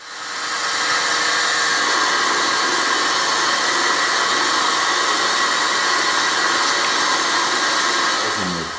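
Variable pitch three-flute carbide end mill, used and reground, milling a workpiece: a steady, loud, broadband machining roar with a high whine that holds evenly throughout, alone without talk.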